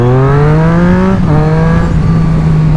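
Street motorcycle fitted with a K&N air filter accelerating close by, a loud engine note climbing steadily in pitch, dipping briefly at a gear change, then rising again, with no talk.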